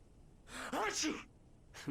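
A character's sneeze in the video game Alan Wake Remastered, a single sharp burst with a gasping intake before it, then a short vocal sound trailing after.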